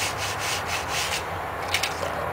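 Sandpaper rubs steadily by hand over the wooden stock of a Mosin Nagant rifle, a close, continuous scratchy friction in quick back-and-forth strokes with no talking.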